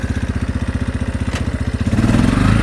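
Cheap four-wheeler ATV engine idling high in neutral, a loud close rhythmic chug that quickens and rises into a smoother, higher drone near the end.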